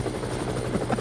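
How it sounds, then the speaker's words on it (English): Apache helicopter in flight, a steady close rotor thump with a dense mechanical drone and a whine holding throughout. "Why are you flying an Apache helicopter, Jones?"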